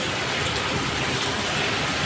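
Heavy rain pours down in a dense, unbroken roar of hissing water, steady and loud throughout with no other sounds.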